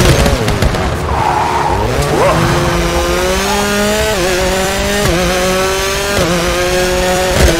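A rally car in WRC 4 is thrown into a handbrake skid on a stage mixing tarmac and slippery sections, its loud engine revving in rising and falling pitch under a sustained tyre slide.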